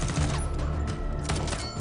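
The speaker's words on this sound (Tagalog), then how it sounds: "Sunod-sunod ang kanyang pagpapaputok" In a film scene in an apartment hallway, rapid gunfire rings out as a dense, loud fusillade of overlapping shots with barely a pause.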